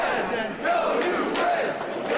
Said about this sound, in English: Big No New Friends chant here.